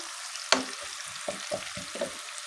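Chopped onion sautéed in a pan for Azerbaijani köfte bozbaş gives a continuous soft sizzle. Several stirring scrapes and clatters stand out over it, close and fairly quiet, with no talk.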